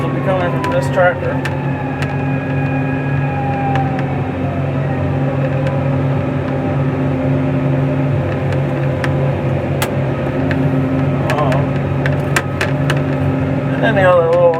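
A 180 tractor's engine drones steadily and loudly throughout while mowing, a constant low hum with a voice talking over it.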